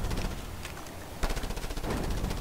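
Rapid automatic gunfire from the video game Just Cause 2 rattles continuously in dense bursts, with a heavier volley kicking in midway.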